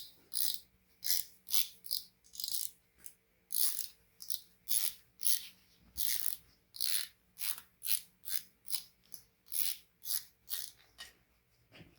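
Ratchet clicking steadily while loosening the cam position sensor on a 2005 Subaru STi engine, a close series of about twenty short bursts of rapid pawl clicks with brief pauses between strokes.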